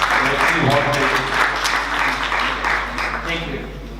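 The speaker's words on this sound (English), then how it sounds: "So give our applause to Plamen." Audience applause for a speaker at a data analytics talk, steady dense clapping from a crowd that carries on for several seconds and slowly tapers toward the end.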